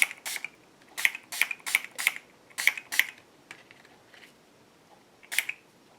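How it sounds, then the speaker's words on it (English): Short scratchy strokes of sandpaper rubbed over painted paper on an altered book page, coming in quick separate bursts with brief pauses between them, close and fairly quiet. "I'm going to bring in a little bit of sandpaper. Go in here and grunge it up a little bit."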